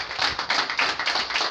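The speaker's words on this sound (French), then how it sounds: "que je vous demande d'applaudir très fort" Audience applause at a political gathering where a presidential candidate withdraws: dense, close, continuous clapping from a crowd, loud and even throughout the short burst.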